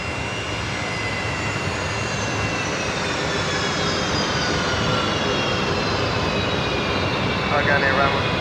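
A jet airliner with Rolls-Royce engines roars steadily and loudly at Brisbane Airport, a broad continuous rush with a faint whine layered on top, holding level throughout.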